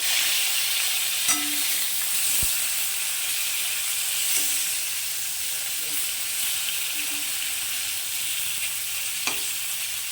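Steady, close sizzling of marinated rohu fish frying in hot oil, a continuous hiss broken by a few sharp pops and clicks, with no talking.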